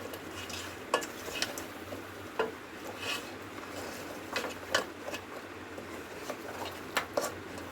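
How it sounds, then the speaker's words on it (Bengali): Meat for biryani stirred and sautéed in released oil in a pot, a steady low sizzle broken by sharp scraping clinks of a spoon against metal at irregular intervals, close and moderately loud. "মাংসটা আমি খুব ভালো করে কষিয়ে নেব।"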